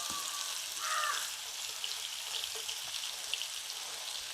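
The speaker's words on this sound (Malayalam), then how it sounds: "ഇതാ ഒരു അര സവോള ഇങ്ങനെ ചെറുതാക്കി അരിഞ്ഞിട്ടേ ഇതൊന്ന് വറുത്ത് കോരി അതിൻ്റെ മേളിൽ ഇടണം" Chopped onion frying in hot oil, a soft continuous sizzle with faint crackles, heard alone at low level without talk.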